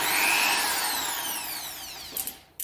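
An iBELL impact drill runs at slow speed with a steady, loud whir that holds nearly level, eases off slightly and gives a couple of brief bumps near the end before cutting out.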